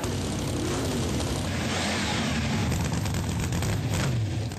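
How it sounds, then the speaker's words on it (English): Many car engines idling and rumbling together at a car show, with a continuous loud, dense drone of motors running throughout and no clear individual starts. "Gentlemen, start your engines."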